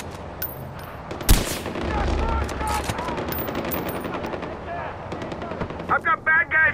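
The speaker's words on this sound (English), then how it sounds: "Bad guys coming hot! I'm taking fire!" Loud, dense automatic gunfire and explosions from a Far Cry 4 firefight, rattling continuously with a heavy blast early on, while a voice shouts over the chaos.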